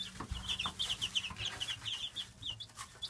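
Chickens clucking in a backyard flock, a busy run of short, repeated clucks and chirps close by, with no talk over them.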